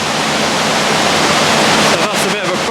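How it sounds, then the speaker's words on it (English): Water spills over the top of a canal lock gate in a steady, loud, broadband rush like a small waterfall, continuous and close throughout, with a few brief splashy variations near the end. "The water's just started to spill over the top, and it's going to start to fill the lock again."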